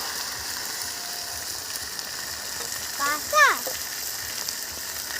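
Duck meat in a hot pan fries with a steady, close sizzling hiss throughout, and a brief spoken word rises over it partway through.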